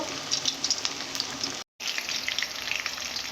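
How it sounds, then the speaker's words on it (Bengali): Meat masala spice paste frying over low heat in a home kitchen, a steady soft sizzle with faint crackles, broken by a brief silent gap midway. "হালকা আঁচে ভালো করে এইভাবে ভেজে নেব"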